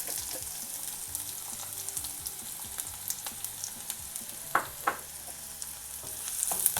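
Chopped onions hit hot oil with popping mustard seeds in a pan for a spinach poriyal, giving a steady close sizzle with scattered sharp crackles and a few stirring knocks.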